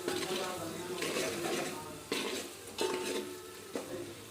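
Chicken with turmeric fries in a pan, giving a close, steady sizzle broken by a few sharp scraping stirs of a spoon against the metal, with no talking.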